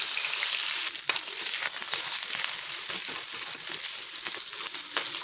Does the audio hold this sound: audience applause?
no